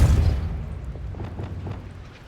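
A Confringo explosive spell goes off in the video game Hogwarts Legacy with a loud deep burst right at the start, then fades into a rumbling, crackling tail.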